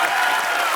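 Studio audience applause at a comedy show, a dense wash of clapping from a crowd, loud and steady through a brief moment.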